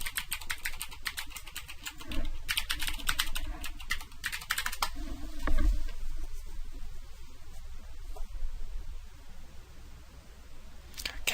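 Login username and password typed on a computer keyboard, heard as quick bursts of close key clicks with pauses, ending with quieter single taps against a low room hum.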